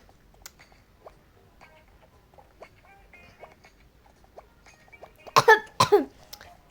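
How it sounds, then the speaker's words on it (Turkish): Quiet background rustling, then two loud, close coughs near the end, sharp and hoarse in quick succession. "bu öksürük de video vaktini buluyor ya"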